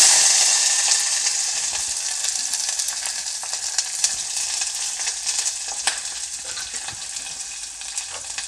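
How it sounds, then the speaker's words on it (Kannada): Onion and curry leaves sizzle in hot oil with mustard seeds and cumin, a loud, steady hiss that fades slightly after the first second, with scattered pops and crackles close by and no talking. "ಇವಾಗ ನಾನು ಅದಕ್ಕೆ ಒಂದು ಸ್ವಲ್ಪ ಕರಿಬೇವು ಮತ್ತು ಈರುಳ್ಳಿನ ಹಾಕ್ಕೊಳ್ತಾ ಇದ್ದೀನಿ"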